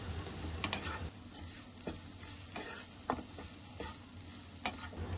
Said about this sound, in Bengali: মশলাটা সবজির সাথে ভেজে নিলাম